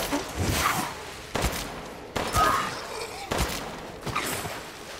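Gunfire in Resident Evil Village, a series of sharp shots in bursts about a second apart, each with a brief echoing tail, loud and close over a low game background.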